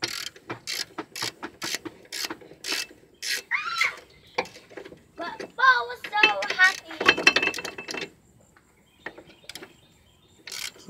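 A ratchet with a 1.5 inch socket clicks in rapid repeated strokes while breaking loose brake bolts on a Chevrolet Malibu, close up, followed by squeaky creaks and a few more clicks.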